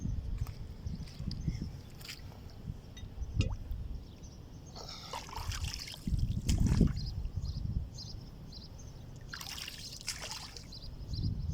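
Trapped water on a cleared blocked road drains away with a soft, trickling gurgle and a few splashy bursts, fairly faint and intermittent.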